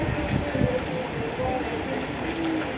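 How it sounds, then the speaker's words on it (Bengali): Heavy rain pours from an overcast sky during a storm under a number three danger signal, a dense, steady roar that runs unbroken with a few faint background sounds. "আজকে আকাশটা একদম মেঘলা আর প্রচুর পরিমাণ বৃষ্টি হচ্ছে"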